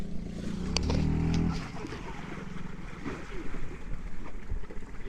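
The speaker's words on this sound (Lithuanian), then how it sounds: "Stiprus vėjas jos neša trupučiuką." Strong wind buffets a sailboat anchored in an Arctic bay off Svalbard, roaring steadily against the microphone with gusty swells and water noise, loudest in the first second and a half.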